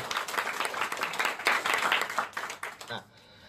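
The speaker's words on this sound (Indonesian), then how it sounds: "Tepuk tangan dulu deh." Audience at a business seminar bursts into brisk, fairly close clapping that swells, then quickly fades out after about three seconds.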